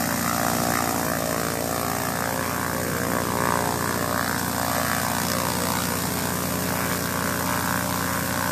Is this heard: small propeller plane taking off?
yes